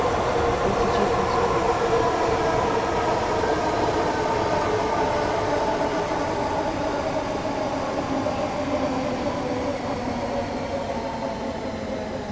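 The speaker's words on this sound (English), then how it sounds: "Very nice track noises there." Continuous rumble and rhythmic rolling of a Class 321 electric train on tracks in a train simulator game, steady and close, slowly easing off toward the end with no voices.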